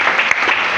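A church congregation applauding, a brief burst of dense, loud clapping from many hands at close range.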